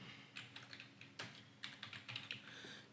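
A name is typed on a computer keyboard, a quiet run of crisp separate key clicks in short irregular bursts with a couple of louder strokes, heard alone.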